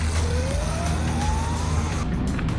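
A car pulls away hard in first gear, its engine note climbing steadily as it accelerates, loud and close throughout with a continuous roar and rising pitch.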